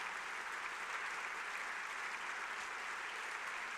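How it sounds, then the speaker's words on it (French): Sustained, steady applause from a seated audience at an awards evening honoring tap dancer Fabien Ruiz, a dense even wash of many hands clapping at moderate distance with no voices over it. "Il peut pas partir comme ça sans de nouveau vos applaudissements, mesdames et messieurs"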